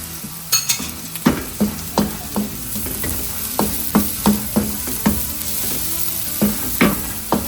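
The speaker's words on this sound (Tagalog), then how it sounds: "pag nagisa na natin ng maayos yung ating sibuyas at yung ating bawang" Onion, tomato and garlic sauté in a pan for spaghetti sauce with a constant low sizzle. A spoon or spatula knocks against the pan in a steady series of sharp taps, and no one talks.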